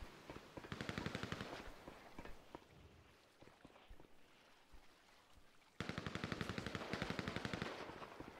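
Video game gunfire: rapid automatic bursts rattle in two long volleys, with single scattered shots and quieter rumbling between them, and no talk.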